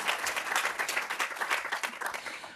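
Audience applause at a lecture and film screening event, a steady, moderately quiet wash of many hands clapping that continues throughout and tapers slightly at the end.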